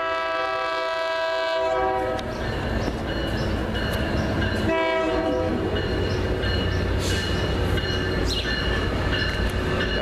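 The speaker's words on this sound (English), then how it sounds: "Listen to that beautiful horn," A loud commuter train locomotive horn, BL unit 823 leading, blares in long sustained chords over the steady rumble of a passing three-car train, sounding twice with a brief break between blasts.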